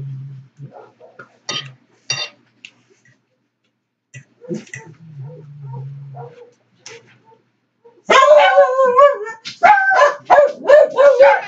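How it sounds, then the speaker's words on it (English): Dogs bark and yip in sharp bursts, sparse and quieter at first with some whimpering, then a loud, rapid flurry of barking close by. "Our dogs are barking."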